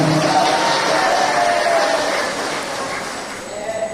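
Applause from an audience at a farmers' association chairman election meeting in Banjar regency, a steady wash of clapping that fills the room and fades slightly toward the end.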